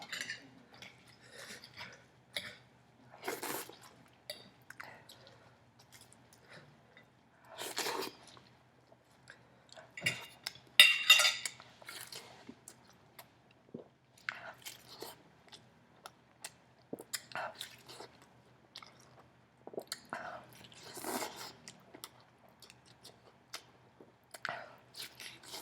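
Someone eating a huge omelette with salsa and four pieces of turkey bacon, close-up chewing, biting and occasional crunches in irregular bursts, with quiet breathing between bites and no talking.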